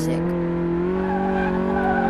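A drifting car in Car Mechanic Simulator produces a sustained engine drone with a steady, squealing tire whine that holds throughout, loud and close, with a faint voice briefly underneath.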